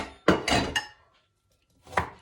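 Vegetables for a stir-fry are cut with a knife on a board, heard as a quick cluster of three close chops, a pause, then one more chop.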